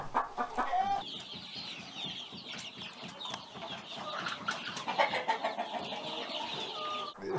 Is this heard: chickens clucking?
yes